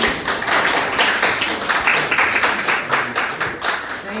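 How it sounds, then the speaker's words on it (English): An audience claps in a lively, uneven burst, individual hand claps audible within the crowd noise, rising and falling over a few seconds with some voices mixed in. "another round of applause, please."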